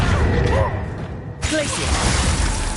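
Summoning spell cast in the video game Hogwarts Legacy: a sudden swishing magical burst that cuts in sharply midway, loud and close over a dense game soundscape.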